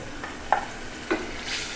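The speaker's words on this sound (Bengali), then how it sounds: "এবার আমি ঢাকনাটা উল্টিয়ে একটু নেড়ে দিচ্ছি" Spice paste being stirred in a pan, with two or three soft scraping strokes over a faint, steady sizzle.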